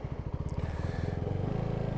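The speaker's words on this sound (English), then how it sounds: "I just kicked it into first gear." A CFMOTO 300SS motorcycle idles with a steady low engine pulse while the gearbox clunks into first, a single mechanical knock near the start of a close, continuous running sound.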